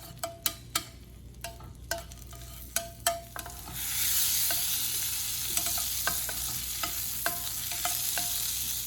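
Garlic sizzles in a pan for crawfish étouffée, a steady frying hiss that swells midway, with sharp utensil taps and scrapes against the pan throughout.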